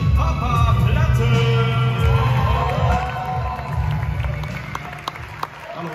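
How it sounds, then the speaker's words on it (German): Loud crowd applause and cheering at a German awards show as a Twitch streamer is welcomed on stage, clapping and shouts over booming music, easing off toward the end. "Begrüßt mit einem fetten Applaus Papa Platte!"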